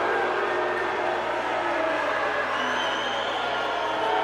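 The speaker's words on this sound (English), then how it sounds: "And the crowd's letting the official hear it." A hockey crowd jeers the official during a 2021 PAMA Pro State Wars semifinal game, a dense, steady roar of many voices that holds at constant loudness throughout.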